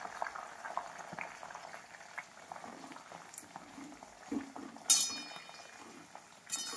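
Hibiscus leaves and flowers simmering in hot oil in a pan, a soft continuous bubbling and faint crackle close by, with a few sharp clinks of a utensil against the vessel near the end.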